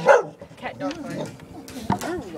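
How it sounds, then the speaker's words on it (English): A dog barks and yips at a stray cat in short, close outbursts, mixed with people talking. "Dog versus stray cat, round one."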